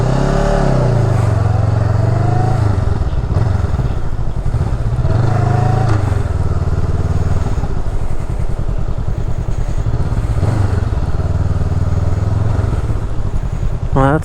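Honda Rebel motorcycle engine on a ride, a loud steady throttle drone with rising and falling revs and wind rumble, continuous and close throughout.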